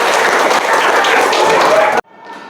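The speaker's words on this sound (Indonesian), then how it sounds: "berikan tepuk tangan untuk kita semua" A classroom group applauds briskly for about two seconds during a teaching demonstration, then the clapping stops abruptly and a voice begins.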